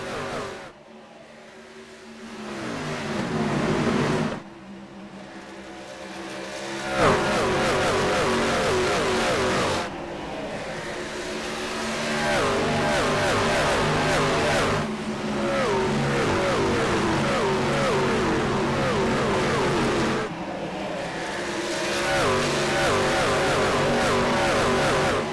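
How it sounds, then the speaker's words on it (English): Truck engines roar and rev in long sustained bursts during a Platinum Truck Series race at Dover Motor Speedway, loud and continuous with brief dips between surges as the pack passes. "let's go ahead and do a little crank it up here for you guys with the Inspired Racing League Platinum Truck Series here at Dover Motor Speedway"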